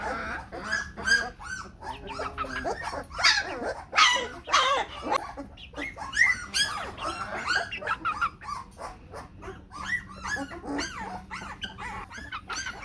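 A porch full of Maremma puppies bark and whimper continuously, overlapping yips and whines close by, with some human voice mixed in.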